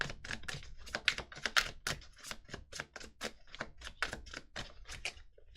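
Message cards being shuffled close by in a quick, uneven stream of light slaps and clicks, heard alone with no talking.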